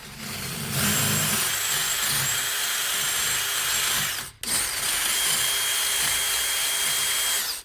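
A power drill whirs steadily up close, grinding rust from a brake bolt hole on a 2009 Subaru Forester in two long runs separated by a brief stop.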